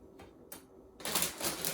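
Scissors snip spinach leaves in a bowl: two quick crisp cuts, then a denser burst of rustling snips, close and quiet.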